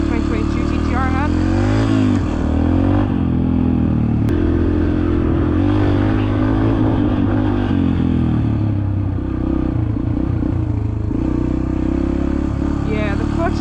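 A dirt bike engine revs loudly and continuously at close range, its clutch near the engagement point, with a voice talking over the steady, rising and falling roar.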